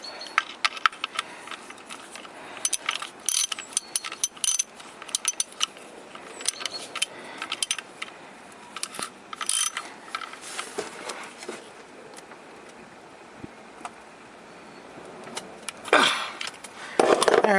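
Tightening the last bolt on an Audi A2 1.4 TDI gearbox mount produces irregular metallic clicks and ratcheting taps, close and moderately loud, with short pauses between bursts and no talking.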